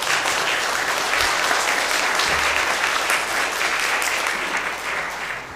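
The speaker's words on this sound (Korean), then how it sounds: "우리 박수로 한번 환영하겠습니다." A church congregation applauds steadily to welcome elders at a 90th-anniversary thanksgiving service, a dense, continuous wash of many hands clapping that holds for several seconds and eases slightly toward the end, with no talking over it.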